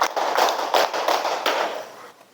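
Classroom students clap in a rhythmic counted pattern, a series of sharp bursts grouped in quick beats, loud and close, with the last claps fading out.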